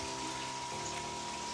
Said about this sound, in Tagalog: Ito guys, tumutulo